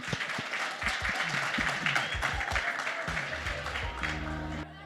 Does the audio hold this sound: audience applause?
yes